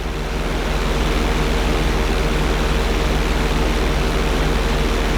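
An airplane in the Grand Theft Auto V flight school drones steadily, a loud, constant engine roar with a low hum and broad rushing noise throughout, no speech.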